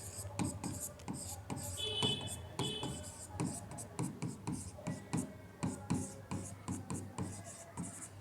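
A pen scratches across a paper application form in quick rhythmic strokes, close and soft, with faint background hum.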